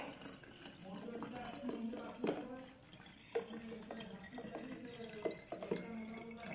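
Water pours and trickles into a Herbalife drink at home, a close, uneven splashing and dripping that lasts several seconds at a moderate level.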